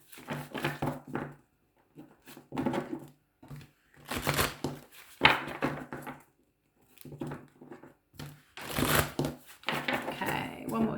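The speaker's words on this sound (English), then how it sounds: "I'm just going to shuffle the cards" Oracle cards being shuffled by hand in short papery bursts of riffling and sliding, repeated several times with pauses, quiet and close, while someone talks in between.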